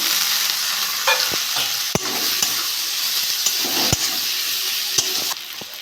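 Tomato and ground spice masala frying in oil while being stirred, with chili, coriander and cumin powder, for a fish curry. A loud, close hiss with repeated sharp clanks and scrapes of the spoon against the pan, and no voices.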